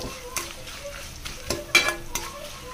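Cashews tossed into a pan of roasted spiced peanuts, frying with a soft sizzle and a few quick stirring scrapes and clinks, close by and brief.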